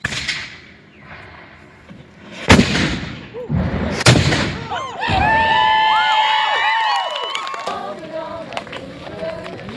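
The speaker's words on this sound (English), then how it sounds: "I do suppose a gun salute is in order." Two sharp cannon blasts fire in a ceremonial gun salute at Fort William, each a loud boom with a rolling tail, followed by a crowd cheering and shouting with children's voices mixed in.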